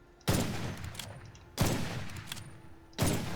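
Three loud gunshots from the video game Witchfire, evenly spaced about every 1.4 seconds, each a sharp blast followed by a long rumbling decay, close and prominent with no talk.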